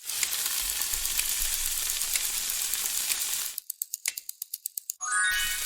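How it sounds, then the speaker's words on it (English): Food sizzling and crackling in a hot frying pan, a dense steady hiss for several seconds, followed by a run of sharp rhythmic clicks and a brief return of sizzle. "That was food sizzling in a pan."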